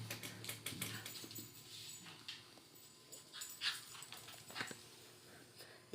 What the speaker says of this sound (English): You trying to let Dingo get you all excited and worked up?